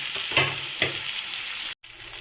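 Capsicum and green chilli fry in a hot pan for paneer chilli, a steady broadband sizzle with two brief scraping stirs, close and fairly loud, broken by a short silent gap near the end.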